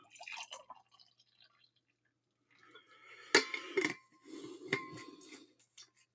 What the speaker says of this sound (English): I need to pour more juice.